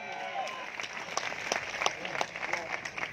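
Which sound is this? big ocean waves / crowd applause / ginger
crowd applause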